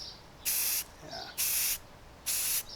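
Three bursts of hissing aerosol spray paint from a can held close, coating a model rocket outdoors in light dusting passes with brief pauses between them.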